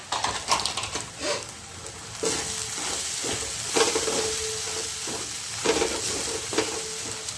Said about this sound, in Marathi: चला आता यामध्ये जो मुगडाळ आहे ते थोडेसे परतून घेते